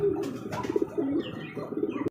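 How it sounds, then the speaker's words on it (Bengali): A single male Lahori pigeon coos close by in low, rolling, repeated calls, with a few faint chirps from other birds behind it. "একটা সিঙ্গেল নর কবুতর দেখছেন হাতের সাথে কি পরিমাণ ডাকা ডাকে"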